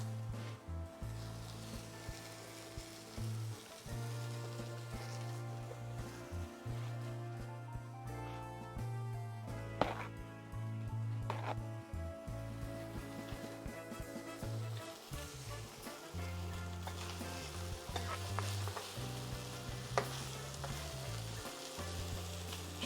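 Blackened salmon sizzles steadily in frying pans, a continuous close frying hiss broken by clanks and scrapes as the pans are repeatedly shaken, with a low humming tone underneath.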